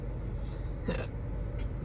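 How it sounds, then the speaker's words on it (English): One short hiccup pops out near the middle, close and fairly clear over a low steady background hum. "I got the hiccups."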